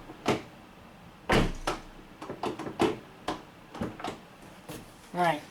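A 2009 Honda Civic car door being opened and shut and its lock worked, giving several sharp thumps and clicks spread through the clip, with a brief voice near the end.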